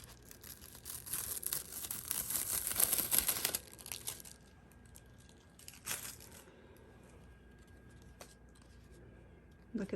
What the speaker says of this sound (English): And then we're gonna peel it up for the reveal.